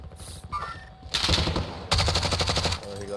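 Video game machine gun fire rattles in two loud, rapid bursts, each a tight string of close shots, with a brief pause between them.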